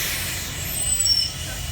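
A tour bus stalled in San Antonio is restarted, giving a steady airy hiss like an air brake releasing over a low engine rumble, with a brief faint whine partway through.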